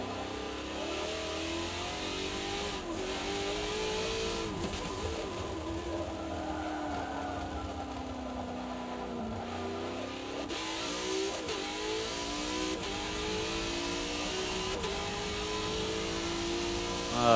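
A car engine in Forza 7, on the Top Gear test track, revs and accelerates continuously with rising and falling pitch sweeps as gears shift, loud and close throughout, with no talk.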